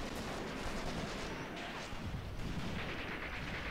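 Artillery fire from the video game Graviteam Mius Front gives dense, distant rumbling booms and crackling blasts that blur into a continuous roar of battle noise, faint overall.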